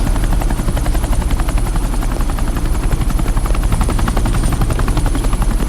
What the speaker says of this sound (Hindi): ये हेलीकॉप्टर सीधे एयरपोर्ट के टारमैक पे लैंड होगा।